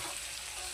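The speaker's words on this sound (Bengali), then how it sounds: "এটা একটু ভাজা ভাজা হবে, আর একটু ভাজা ভাজা হোক, তারপর নামিয়ে নেবো।" Chowmein with chickpeas and peas fries in a wok, a brief, even crackling sizzle that is close and continuous with no voices.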